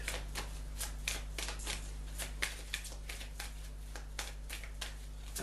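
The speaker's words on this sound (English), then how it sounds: "while I'm shuffling this," A deck of tarot cards is shuffled by hand close up, a rapid series of crisp riffling bursts and soft slaps repeating at a steady rhythm, alone over a low steady hum.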